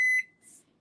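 A microwave oven gives a single short, clear beep as its timer is set for cooking chicken patties, followed by a faint soft hiss in a quiet kitchen.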